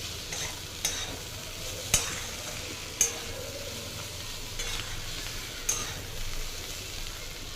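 Potatoes stirred into masala in a pan with salt, a soft steady scraping and gentle sizzle, punctuated by a few sharp spoon clinks against the pan at irregular intervals, quiet and close without talk.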